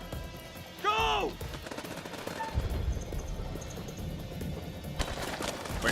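Bursts of gunfire ring out in the House of Ashes video game during a firefight against enemies up on a ridge, a sharp burst early on followed by scattered shots under game sounds and faint voices.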